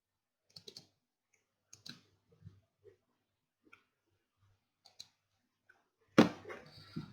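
Scattered computer mouse clicks in EViews software, faint single taps spaced irregularly across several seconds in a quiet room. A louder clatter comes at the end.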